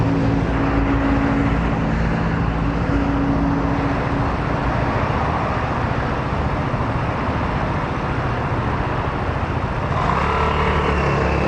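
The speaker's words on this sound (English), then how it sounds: "you probably just hear those mopeds pulling away" Mopeds pull away in Bristol traffic, a steady, loud rumble of small engines and road noise with low droning tones that stays constant throughout and rises slightly near the end.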